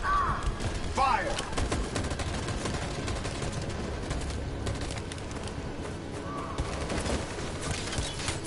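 Rapid bursts of gunfire in the video game Detroit: Become Human, a sustained fusillade of shots running dense and loud across the whole stretch, with brief voice-like calls near the start.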